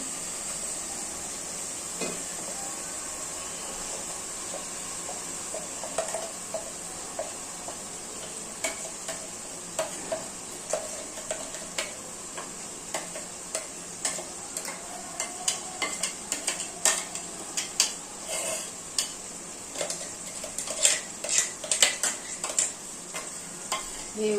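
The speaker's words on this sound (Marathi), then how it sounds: "आता मी यामध्ये घालते वाटण" Onion and coconut masala paste stirred in a hot sizzling pan for a mutton curry, a steady fry hiss with scattered ticks and scrapes of the spoon growing busier over time, no voices.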